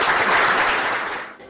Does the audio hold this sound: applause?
yes